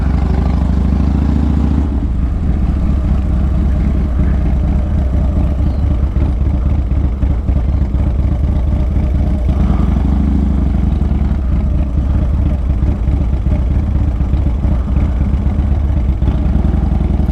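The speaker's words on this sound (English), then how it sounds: "Y'all can really hear the cam crackling here." A tuned car with a stage 4 cam rumbles steadily at close range, its choppy cammed idle carrying irregular crackles and pops from the exhaust for the whole stretch, with no talk over it.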